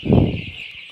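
A young chicken, about fifteen days old, gives a brief, soft cluck close by, over a faint steady background hiss.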